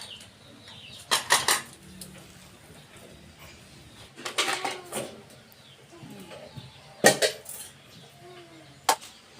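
Ceramic dishes and cutlery clatter in several short bursts while being carried to a sink during a messy house cleanup, with faint birds cooing in the background.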